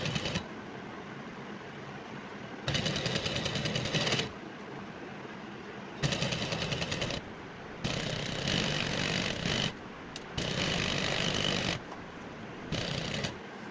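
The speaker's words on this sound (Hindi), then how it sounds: "और अब यहीं से सिलाई लगाऊँगी। यहाँ से डबल सिलाई करूँगी ताकि पक्का हो जाए।" Sewing machine stitching a double seam in fabric, whirring bursts of rapid needle clatter that start and stop repeatedly, close and steady, with no talk.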